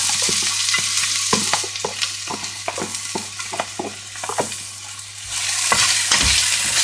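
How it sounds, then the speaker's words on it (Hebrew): Chopped onion frying and being stirred in a pan: a steady close sizzle broken by frequent clicks and scrapes of the utensil, with no voices. "אני מטגנת בצל קצוץ עד להזבה"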